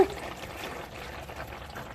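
Engine oil from a 2012 Ford F-250 Super Duty 6.7L draining out in a steady pour, a continuous close liquid splashing and trickling that holds even for the full two seconds.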